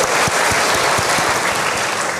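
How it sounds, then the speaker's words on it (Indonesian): Congregation applauding in a church after a call to praise God, steady dense clapping throughout with a few louder claps near, no voices over it. "berikan saya lagi tepuk tangan bagi Tuhan"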